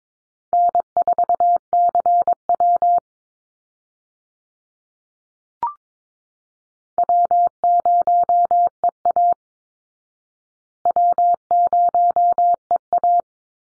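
Morse code call signs sent at 22 words per minute as a clean single-pitch tone, three bursts of rapid dots and dashes separated by silent gaps, with one faint click in the first pause.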